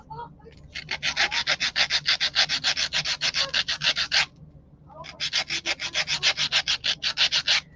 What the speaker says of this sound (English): I'll just cut the little triangle off and then sand the edge